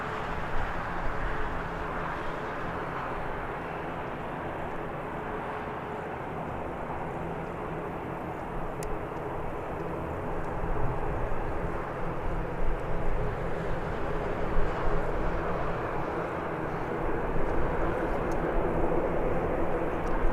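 A Ryanair airliner at Birmingham Airport produces a steady, moderately distant jet rumble that swells slightly louder toward the end, with no talking.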